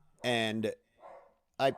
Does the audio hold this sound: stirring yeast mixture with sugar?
no